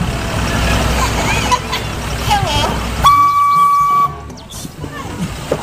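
A Thomas toy train lets out a sustained electronic whistle tone lasting about a second, amid rattling toy noise and a voice talking.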